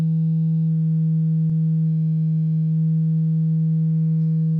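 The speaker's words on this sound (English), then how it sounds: "What you're hearing now is the fundamental frequency." A steady, loud, pure sine tone holds at the fundamental frequency of a standing sound wave, unbroken apart from one tiny click partway through.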